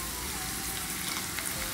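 Onion and mustard seeds frying in hot oil give a steady, close sizzle, a dense crackling hiss that runs evenly throughout with no voices.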